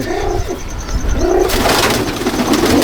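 Ringed pigeons in a loft in Jangipur, Murshidabad, coo loudly and close in two rolling phrases, followed by a burst of broad rustling noise.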